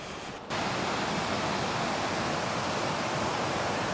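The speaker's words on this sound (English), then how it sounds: "We're down off the hill and on the way into Melrose along the River Tweed." Steady broadband rush of the River Tweed flowing near Melrose, loud and continuous after a brief quieter start, with no voices.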